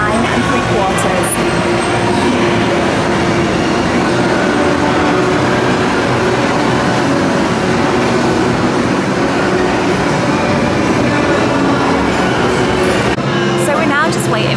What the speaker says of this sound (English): This is the Hogwarts Express, now just pulling into the station.